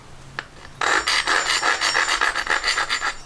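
Rough, rhythmic scraping strokes lapping on a worn 140-grit Atoma diamond plate, back and forth at a steady pace, close by and fairly loud.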